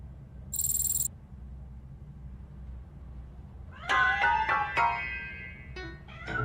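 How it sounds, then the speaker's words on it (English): Cat meowing in the video game RoboCop: Rogue City, a few short, close, plaintive meows in quick succession after a brief high electronic tone, over a low ambient hum. "That cat must be hiding inside."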